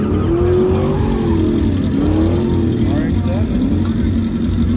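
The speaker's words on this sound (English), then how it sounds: "Out here drifting." A car drifting at an outdoor motorcycle meet, its engine roaring loud and steady with tire noise throughout, while people talk nearby.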